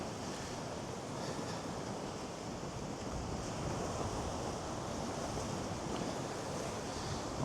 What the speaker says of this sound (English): where it's crashing in here, there's a lot of mist and spray coming off those waves